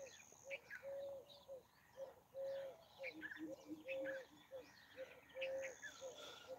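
Birds chirping and calling in trees, with short repeated tonal notes in a loose rhythm, fairly faint and distant against a quiet outdoor background with insects.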